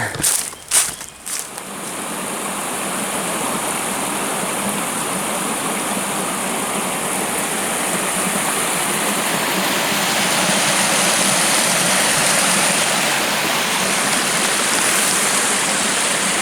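Steady broadband rush of flowing water, continuous and fairly loud throughout, with a few brief knocks at the very start.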